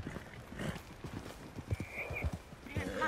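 Horse hooves clip-clop in Red Dead Redemption 2 as a steady run of sharp, fairly close thuds, with a faint voice briefly in the background.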